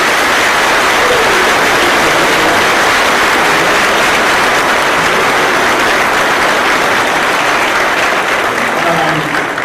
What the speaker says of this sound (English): I'd like to ask you to give a very robust round of applause for NASA Administrator Charles Bolden.